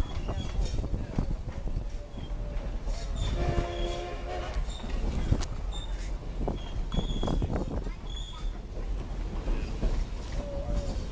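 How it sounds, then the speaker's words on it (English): Durango and Silverton railway train at a railfest, a steady broad rumble of rolling cars with a brief squeal and some faint horn-like tones, close and continuous, with faint voices in the background. "because you'll see the train turning"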